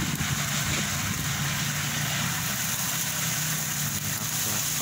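A small tractor fitted with a sugarcane leaf-stripping attachment idles steadily nearby, a continuous low rumble with an even mechanical drone that holds level throughout.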